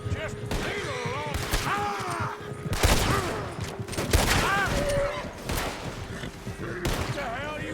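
Gunfire in Red Dead Redemption 2, sharp repeated shots and volleys crackling amid a firefight, loud bursts spaced unevenly with voices and tonal game sounds woven between them.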